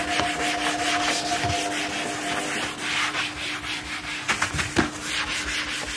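A kitchen cupboard being scrubbed clean, giving steady close rubbing and scouring strokes with a few sharper scrapes near the end and no talking over it.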